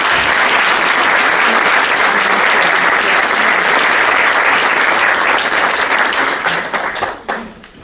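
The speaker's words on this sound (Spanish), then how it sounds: "pido que le demos un caluroso aplauso" A crowd at an event on Chile's labor reform gives a warm, dense round of clapping, loud and sustained, then thins out and fades away over the last second.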